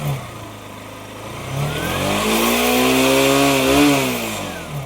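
A vehicle engine cranks and then catches, running with a steady mid-pitched hum that rises in revs and then eases back during a charging test. The engine is close and fairly loud.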